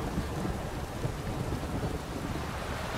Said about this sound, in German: Der Sonnenuntergang bei Gewitter.